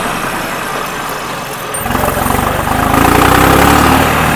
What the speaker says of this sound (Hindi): तो भाई मैं ट्रैक्टर पे आ गया।